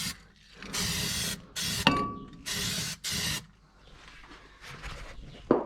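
Copper weld-through primer sprayed from an aerosol can onto the metal of a custom battery tray for a 1951 Chevrolet, five short hissing bursts separated by brief pauses, with a metallic clink in between.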